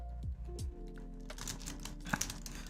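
A few soft, quick key clicks come from a mechanical keyboard with Cherry MX switches, quiet and sparse against a faint room background with no talking.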